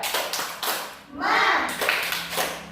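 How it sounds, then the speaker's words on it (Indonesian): A class of children in a classroom, led by a teacher, does a rhythmic spirit clap together, bursts of group clapping in a patterned beat while young voices chant along. "Kita tepuk semangat dulu. Tepuk semangat."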